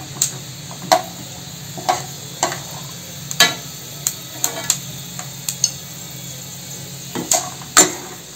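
Peanuts roasting dry in a pan, heard as sharp, irregular clicks and rattles about every half second to second as they are stirred and shift against the metal, over a faint steady hiss.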